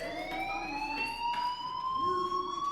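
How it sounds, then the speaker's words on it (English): A fire alarm rings steadily inside the video game Life Is Strange, a sustained electronic tone that slowly rises in pitch, loud and continuous throughout with no talk over it. "Hey, do you hear that fire alarm?"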